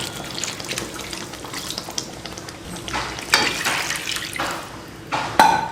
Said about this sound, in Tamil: குழம்புக்கு தண்ணி